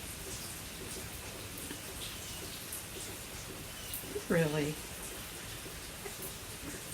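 Steady rain falls outdoors on a morning, a soft constant patter heard alone, with a brief spoken word partway through.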